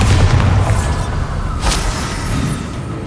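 A Bombarda blast spell in the wizarding video game Hogwarts Legacy erupts as a loud, deep booming explosion, with a rumbling low roar that lingers and fades over a few seconds.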